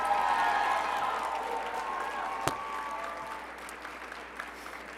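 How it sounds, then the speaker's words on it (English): Applause from a pageant audience at Mr. Vineland 2019, steady dense clapping that slowly tapers off, with a sharp single knock partway through and scattered claps near the end. "let's give him a round of applause."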